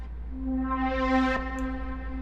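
A single synth one-shot note for an RnB loop, its filter cutoff sweeping upward so the tone brightens steadily before snapping back, sustaining alone with no talk.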